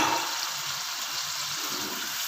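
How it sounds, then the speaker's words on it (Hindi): A cup of water poured into simmering chicken korma in a cooking pot, giving a steady broadband hiss and sizzle that stays even throughout, close and moderately loud with no talking. "अब मैं इसमें डाल रही हूँ 1 कप पानी"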